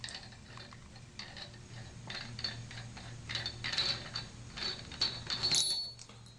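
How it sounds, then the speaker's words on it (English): A spanner wrench works a lock nut loose on a SAF adapter-mounted spherical pillow block bearing, giving a string of close metallic clicks and scraping ratchet-like ticks that grow louder toward the end, with no talk. "Now just to kind of break this nut loose, I'm going to put my spanner wrench back on here."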